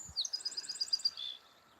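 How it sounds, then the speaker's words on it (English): A song sparrow sings by the ponds: a faint, distant run of rapid high chirps and trills, followed by a short buzzy ending, in otherwise quiet surroundings. "Kind of sounds like a song sparrow over there."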